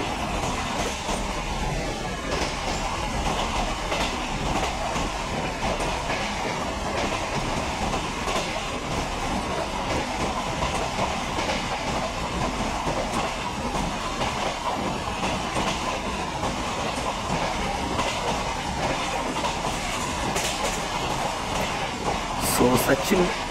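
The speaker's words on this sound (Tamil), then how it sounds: "So parcel fried train." A parcel freight train rolls past on the opposite track in the Microsoft Train Simulator game, a steady dense rumble with faint clickety-clack of wheels running continuously throughout, fairly close and loud.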